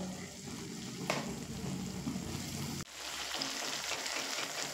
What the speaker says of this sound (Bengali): সেই চিকেনের কিমাগুলো দিয়ে আবারও মিডিয়াম ফ্লেম করে 8 থেকে 10 মিনিট কষিয়ে নেব